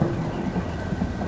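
Heavy rain pours steadily with low thunder rumbling through a stormy scene from a Thomas & Friends hurricane episode, a dense continuous wash of sound with no voices.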